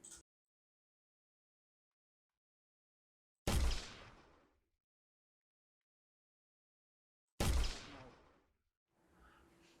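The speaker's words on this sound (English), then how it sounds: "So the projectile will explode with the visual effects and sound" A projectile explosion effect fires in an Unreal Engine game, with two separate sharp blasts that each fade in a short rumbling tail, and near silence between them.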